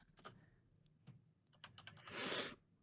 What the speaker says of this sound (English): I'm typing all the things